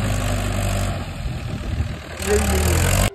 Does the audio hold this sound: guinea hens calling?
no